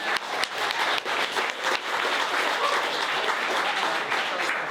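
An audience claps at a campaign kickoff party. A few sharp individual claps open into a steady round of applause that holds at moderate level to the end.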